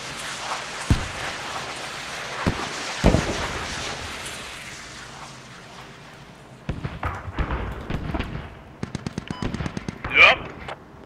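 Artillery guns fire in the Squad video game, several separate heavy booms early on, then a rapid run of sharp repeated shots and a loud final blast, with someone talking between them.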